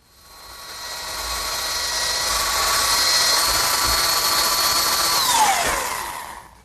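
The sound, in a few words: power tool attaching table base to top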